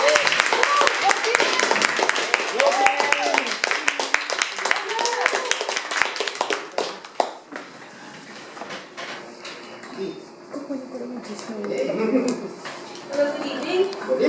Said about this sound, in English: let's give a big round of applause for Toastmaster Tin.